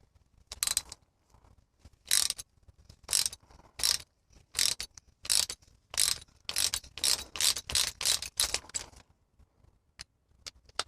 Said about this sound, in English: Break loose that nylock right here.